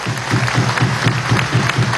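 A crowd at the 2015 installation of Venezuela's National Assembly applauds the armed forces and cadets, a steady rhythmic clapping with a pulsing beat that carries on throughout.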